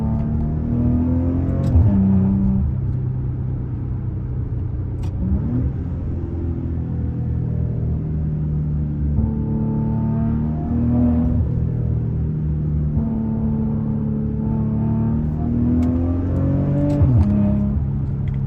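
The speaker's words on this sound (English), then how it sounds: "The car sounds great." A Maserati Ghibli's engine pulls hard through repeated accelerations, each rise in revs broken by a gear change, loud and close with a continuous rumbling undertone.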